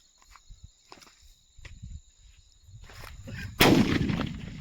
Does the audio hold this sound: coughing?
no